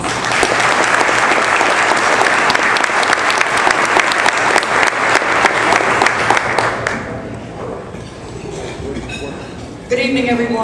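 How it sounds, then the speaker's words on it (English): Loud, sustained applause fills a hall at a Charlotte police community awards ceremony, then drops away into scattered claps and room murmur before a brief louder sound at the end. "Please give them a round of applause."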